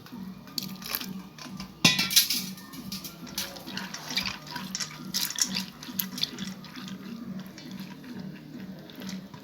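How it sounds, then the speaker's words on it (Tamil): More hot water is poured over sago pearls in a bowl, giving an uneven splashing trickle with a sharper splash near the start and faint crunchy stirring noises. "இன்னும் கொஞ்சம் சுடு தண்ணி ஊற்றிக்கலாம்."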